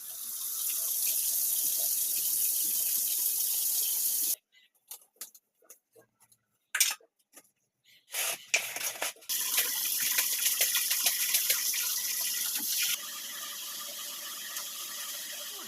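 A kitchen tap gushes steadily while dishes are washed, the water cutting off for a few seconds amid clinks and scrubbing, then flowing again, loud and close.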